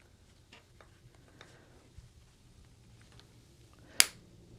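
Sewing clips snapped onto fabric pouch panels, lining placed right sides together over a zipper: one sharp, loud click stands out near the end after a few faint ticks and rustles in a quiet room.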